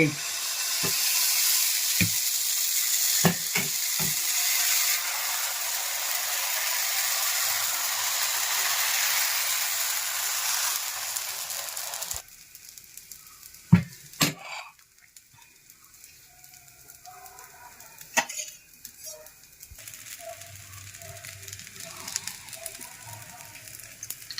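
Steady broadband sizzle of dosa batter on a hot griddle for about twelve seconds with a few sharp clicks, then quieter scattered scraping and tapping sounds.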